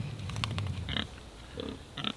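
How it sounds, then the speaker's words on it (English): Pigs resting in the shade after being fed give low, close grunts, a cluster in the first second followed by a few brief snorts and squeals, with no talking. "some happy pigs"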